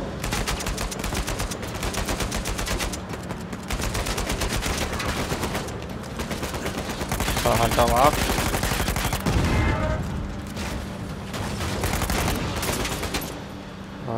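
Gunfire in the video game Uncharted 4 crackles in rapid, repeated bursts like a machine gun through most of the stretch, loud and dense, while a player speaks briefly.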